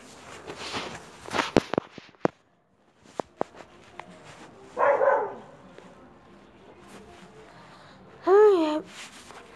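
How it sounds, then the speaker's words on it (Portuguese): A dog barks twice in short, sharp bursts a few seconds apart, with footsteps and scattered knocks in a quiet room between them. "É a Melly que tá latindo"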